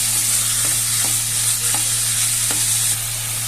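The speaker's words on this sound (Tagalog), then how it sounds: "Halo-haluin lang natin hanggang lumabas yung ating katas ng chicken." Chicken tinola with broth stirred in a pot, a steady bubbling sizzle over a constant low hum, with periodic soft knocks of the spoon against the pot about every half second.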